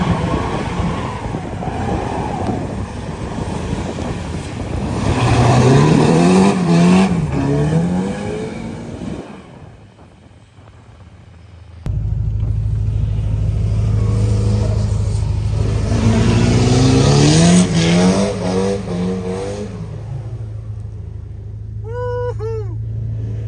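Ford Mustang drifting on a wet street in the rain, the engine revving hard in rising and falling sweeps, easing off, then roaring up again with heavy low rumble close by.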